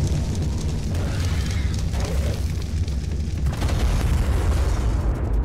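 Loud, continuous rumbling boom of a bomb explosion in the game Ark Primal Fear, a dense low roar that rolls on steadily for several seconds with no pause.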